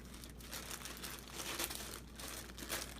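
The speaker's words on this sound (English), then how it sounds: "So that all goes into a baggie," A plastic baggie crinkles steadily up close as hiking gear and keys are packed into it, a busy, continuous rustle with no talking.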